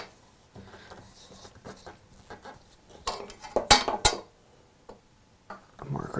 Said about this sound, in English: Marking knife.